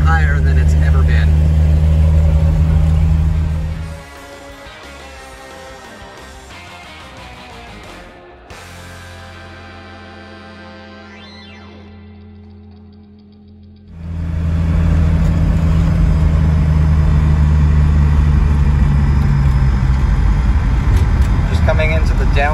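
A 1961 Comet car driving through town with its engine running, a loud steady interior drone that drops away for several seconds before the engine sound returns strongly, with people talking over it.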